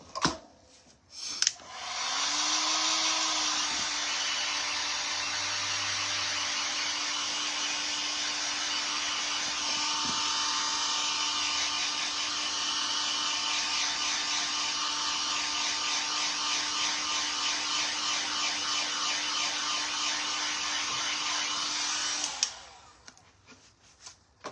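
A hair dryer blows on paint on a pumpkin craft, a steady, whirring airflow with a faint tonal whine that starts after a couple of clicks, runs evenly for about twenty seconds, then switches off.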